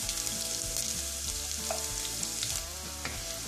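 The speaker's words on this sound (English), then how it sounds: "Allow the garlic also just to sweat enough, not to give the color" Garlic frying with golden-brown ginger in a pan for beef curry, a steady close sizzle with occasional stirring clinks and scrapes, continuous and fairly loud throughout.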